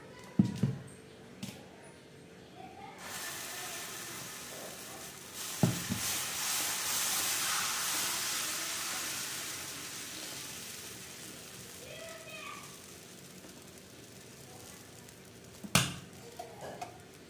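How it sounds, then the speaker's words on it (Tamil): Dosa batter is poured onto a hot pan and sizzles in a broad, steady hiss that swells and then fades, with a few clinks at the start and near the end, heard at close range without talk. "இப்போ நான் வந்து உங்களுக்கு தோசை ஊற்றி"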